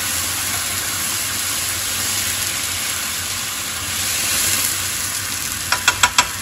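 Food fries in hot oil in a pan while a salad is being prepared, a steady dense sizzle that runs throughout, ending with a few sharp clinks of a utensil.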